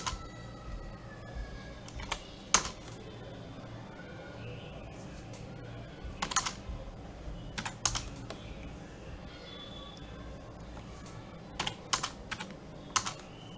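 Computer keyboard keys tapped to enter moves in a Python stone-paper-scissors game, sparse clusters of sharp clicks spread across a quiet room, with speech in between.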